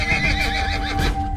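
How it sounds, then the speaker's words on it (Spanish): Horses neigh and whinny for a sound effect in a fantasy audio drama, the calls loud and close over a steady bed of hoof clatter, with no voices present. "Sin embargo, no dejaban de relinchar."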